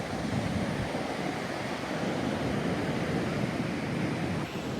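Ocean waves on Twilight Beach in Esperance, Australia, a steady broadband wash of surf with wind buffeting the microphone, loud and continuous throughout with no clear individual breakers.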